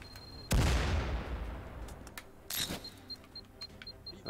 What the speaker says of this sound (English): Grenade's gone in.